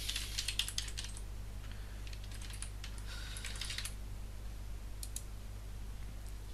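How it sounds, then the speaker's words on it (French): Fingers tap out a username and password on a computer keyboard in quick bursts of light clicking keystrokes, close and fairly quiet over a low steady hum, with a pause before a final short flurry. "si je retourne sur Firefox, et je retourne taper un identifiant mot de passe"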